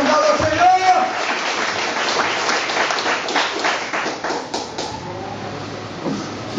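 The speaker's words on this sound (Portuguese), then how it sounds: "Palmas para o Senhor Jesus." A church congregation claps in a steady broadband wash of applause lasting several seconds, moderately loud and fairly close, with some voices mixed in underneath.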